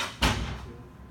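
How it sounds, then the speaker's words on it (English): A door pushed shut in an indoor room, giving a single soft thud with a brief rush, then quiet room tone. "you mind closing the door too?"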